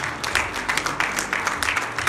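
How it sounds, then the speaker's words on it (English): A church congregation claps enthusiastically in praise, a dense patter of many hands with rhythmic surges, moderately loud and sustained without talk. "Could we give the Lord a hand clap of praise?"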